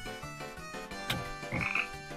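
Repeated cartoonish frog croaks sound in a dog-raising video game, several distinct croaks in a steady rhythm over a looping musical backdrop.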